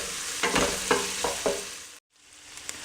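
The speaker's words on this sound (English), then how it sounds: "sauteing all the good stuff inside your pot" Onions, garlic and ham sautéing in a pot for pinto beans, with a steady sizzle broken by several scraping stirs, then a brief pause before the frying resumes more quietly.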